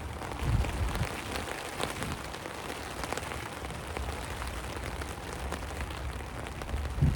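Heavy rain lashes down steadily on surfaces outdoors, a dense continuous patter with scattered louder drops, close and unbroken throughout.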